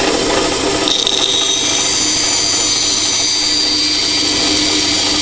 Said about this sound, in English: If you have to do a relief cut with the bandsaw,